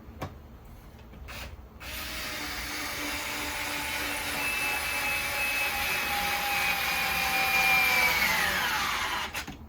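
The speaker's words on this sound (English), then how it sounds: "We're going to drill a new one, okay?" An electric screwdriver whirs steadily for several seconds, a rising grinding whine as it drills a hole into material, preceded by brief scraping, no talk.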